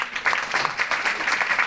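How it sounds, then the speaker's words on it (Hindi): An audience at a gathering in Jammu breaks into lively applause, with quick, overlapping hand claps forming a steady, bright patter close by. "जोरदार तालियां"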